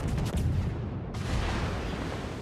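Shells fired from a Kawachi battleship's guns in a naval video game, HE rounds, heard as a loud booming, rumbling barrage lasting throughout, with no speech.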